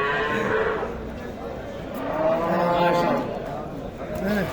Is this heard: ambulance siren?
no